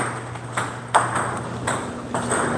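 Table tennis balls struck during serve practice, several sharp light pings spaced about half a second apart, close and crisp, in a quiet room.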